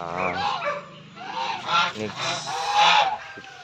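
Repeated harsh honking and hissing calls from Muscovy ducks, loud and close, with overlapping bursts throughout.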